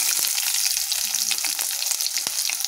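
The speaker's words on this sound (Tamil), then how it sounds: "நல்லா வணக்கி விட்டுக்கலாம்." Onions sizzle in hot oil with cinnamon, cardamom and curry leaves in a pan for a green peas masala curry, a close, steady frying hiss with occasional stirring taps.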